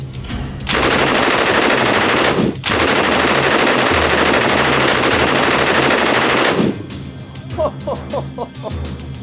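A Japanese Type 99 machine gun from World War II fires sustained, rapid bursts, roaring loudly for several seconds with a brief pause, then stops, leaving quieter background noise and faint chatter.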